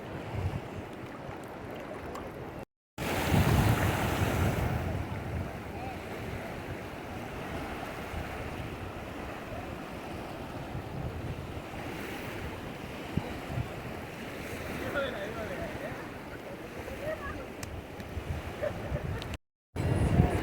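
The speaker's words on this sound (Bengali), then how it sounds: "ওগুলো ঢেউ।" Sea waves wash steadily onto the shore at Bakkhali beach, a continuous loud rushing surf mixed with gusting wind buffeting the microphone, with no clear voices.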